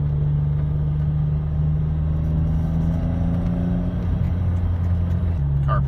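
A 1993 BMW M5 cruising at about 40 mph over a bumpy street in Rancho Palos Verdes, its engine a steady low drone with road rumble filling the cabin throughout, loud and continuous.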